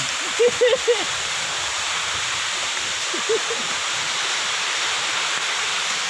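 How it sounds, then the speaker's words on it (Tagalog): Steady broadband rush of falling water fills the whole clip, with a few brief voices breaking through near the start and again midway. "Ito po ang falls sa amin."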